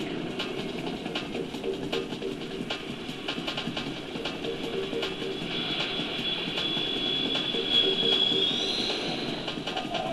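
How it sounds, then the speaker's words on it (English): A monster in the video game Jade Cocoon 2 that sounds like an airplane gives a sustained, loud, rumbling roar with a thin whining tone rising over it midway, steady and continuous with no voices. "it's like a nasty airplane monster"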